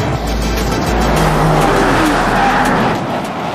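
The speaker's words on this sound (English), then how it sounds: "we are going top speed around this corner" A 2023 Range Rover Sport cornering hard at top speed, its tires squealing loudly and steadily against a constant engine roar, heard from inside the car.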